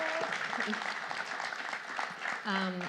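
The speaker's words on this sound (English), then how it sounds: "Please join me in a round of applause for them." Applause from a conference audience for panelists, steady under and around a voice, with speech rising clearly toward the end.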